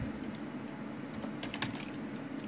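Someone types a command on a computer keyboard, a quiet, quick run of light key clicks close by with a low room hum underneath and no talking.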